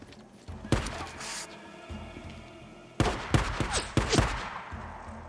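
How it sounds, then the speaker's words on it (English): Video game gunfire from enemy pistols in Days Gone, several loud sharp cracks in two clusters, with a quieter stretch of game ambience between them. "stop shooting me."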